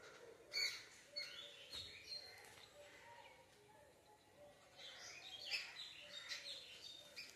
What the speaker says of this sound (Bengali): এই যে পাখি দেখছো?